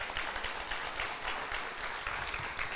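A church congregation breaks into applause, a fairly soft, dense patter of many hands clapping together for a few seconds.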